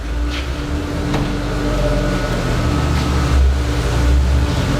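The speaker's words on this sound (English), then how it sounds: "This is a water chiller system" Water chiller system driven by a regular swimming pool pump at a fish hatchery, a steady low motor hum with faint mechanical whir and occasional soft clicks, running continuously nearby.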